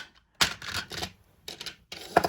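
Dice clatter in a dice tray as someone digs for one at the bottom: a few short, close rattling bursts separated by brief silences.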